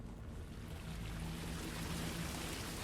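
A waterfall in the underground caverns of the retro pixel-art RPG Caves of Lore gives a continuous broadband rushing hiss, steady and moderately soft, with no speech over it.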